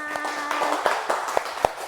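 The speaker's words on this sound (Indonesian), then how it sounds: "Tepuk tangan." A small classroom group claps for a student's correct answer in a microteaching lesson, with a few sparse, uneven hand claps standing out over a steady background hum.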